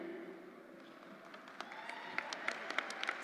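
Applause from a commencement crowd for state legislators, starting soft and building into a fuller patter with a few sharp, close claps standing out near the end.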